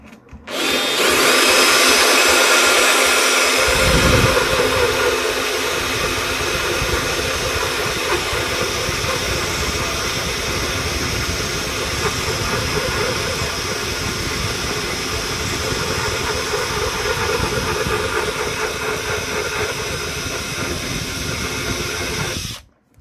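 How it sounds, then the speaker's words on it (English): Power drill running on slow speed as its bit bores into toughened glass, a loud continuous whine and hiss that starts after a brief moment of quiet and holds steady, close by, with no talking. "Let's not smash it while trying to line a drill bit up. I've got it on slow speed."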